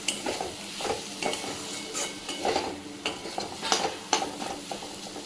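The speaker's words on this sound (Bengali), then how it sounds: "একটু নেড়ে চেড়ে নেব।" Chilli powder and a pinch of turmeric are stirred in a hot pan for a Bengali ribbed-gourd poppy-seed dish, a spatula scraping in rhythmic close strokes about twice a second over a soft background sizzle, with no talking.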